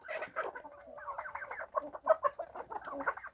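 A backyard poultry flock, with a turkey among them, clucks in quick, busy bursts while pecking at bread, nearby and continuous over a quiet yard.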